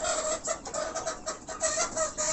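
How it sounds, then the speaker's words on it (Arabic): Sasso-baladi crossbreed laying hens clucking nearby, a busy overlapping run of short repeated clucks and murmurs with no talk. "الفراخ دي انا جايباها بغرض البيض"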